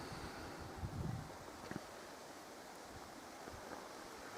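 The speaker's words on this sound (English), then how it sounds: "A stream over there, babbling" Babbling stream in a quiet outdoor spot, a faint, steady wash of flowing water heard from a distance with soft low rumbles underneath.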